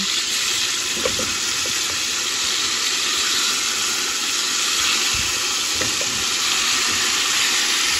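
Beef steaks frying in a pan with a steady, loud, dense sizzle throughout, a few faint clicks of utensils now and then, no voices.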